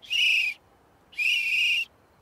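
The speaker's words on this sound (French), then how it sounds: "On siffle encore en même temps." Two sustained high whistled notes, each about half a second long, separated by a short pause, clear and close.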